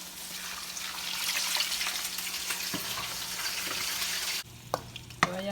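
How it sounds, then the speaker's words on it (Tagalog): Garlic, onion and tomato fry together in a pan with a dense, steady sizzle, then the hiss drops away and a few sharp clinks and stirring knocks follow near the end. "nilagay ko na yung ating bawang, sibuyas at kamatis"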